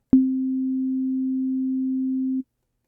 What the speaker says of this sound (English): the default wave for oscillator A is a sine wave.